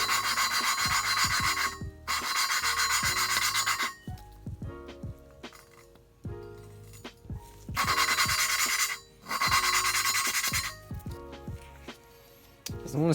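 Valves of a B17A1 VTEC cylinder head from a CRX are lapped by hand. The crunchy, raspy grinding comes in long rhythmic bursts with short pauses between strokes.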